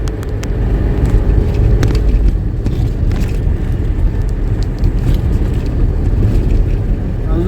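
Car rolling slowly along a potholed, rain-wet road between Aurangabad and Mumbai, with a steady low engine and road rumble and wind buffeting the microphone throughout, plus occasional bumps.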